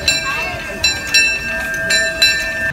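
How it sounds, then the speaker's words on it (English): The Disneyland railroad train ride gives off tonal whistle-like blasts and metallic ringing over a low rumble, several short bursts recurring close by with background crowd murmur. "Okay, let's do the train."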